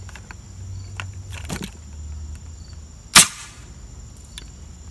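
A Drainblaster Nerf-style shotgun made from schedule 80 PVC firing five half-length Elite darts, a single sharp pop after faint handling noise, otherwise quiet outdoors.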